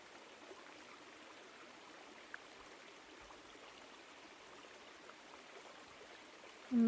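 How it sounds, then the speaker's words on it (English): A woodland stream in autumn flows steadily with a soft, even wash of water, faint and continuous throughout, with no voices. "the sound of the water flowing"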